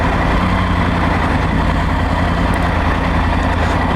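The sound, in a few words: Triumph Tiger 900 Rally Pro motorcycle engine in sport mode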